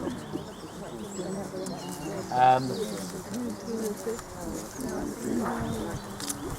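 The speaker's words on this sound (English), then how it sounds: "We have plenty of birds, as lots of people have got." Birds call and coo against a busy outdoor background, with one brief louder burst of calling standing out midway.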